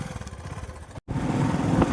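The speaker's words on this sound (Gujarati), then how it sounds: "જો આ અમારું બાઇક છે" A motorcycle engine runs at a steady, close, low throb, cutting out for a brief moment before continuing.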